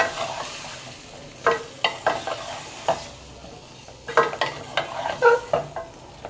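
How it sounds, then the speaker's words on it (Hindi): Potatoes with tomatoes and chillies fry in a pan, with a low sizzle under a series of sharp scraping stirs and utensil knocks, irregular and close. "इसको अच्छी तरीके से भूनते रहें।"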